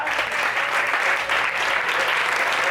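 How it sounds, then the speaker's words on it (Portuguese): Loud, dense applause from a congregation at a church vigil, a continuous wash of clapping that fills the whole moment without letting up. "As palmas para Jesus, bem forte"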